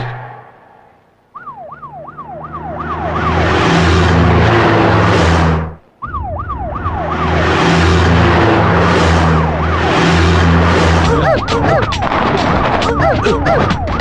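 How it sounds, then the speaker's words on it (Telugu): A car-mounted siren in a Telugu film scene wails in repeated rising and falling sweeps, loud and close over a heavy rumble, cuts out briefly, then returns with rapid warbling. "ఏంటి ఆ సౌండ్? సైరన్ సౌండ్ అండి."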